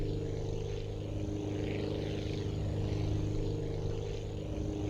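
A plane engine in the video game Aviassembly drones steadily at idle or low power, a constant, moderately loud hum with no talk over it.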